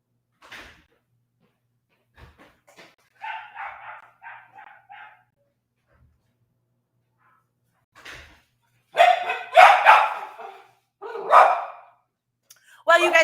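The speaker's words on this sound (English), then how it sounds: "There's a dog barking outside" A dog barks in short bursts, some faint and some loud and close, with quiet gaps between them.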